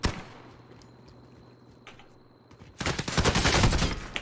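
Call of Duty gunfire opens with one sharp shot, then a quieter stretch of faint clicks and a thin tone, before a dense, loud burst of rapid automatic fire takes over.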